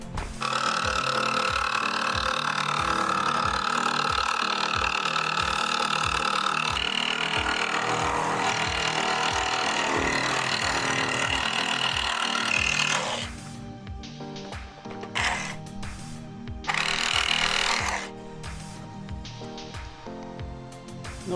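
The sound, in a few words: jigsaw with metal blade cutting carbon fibre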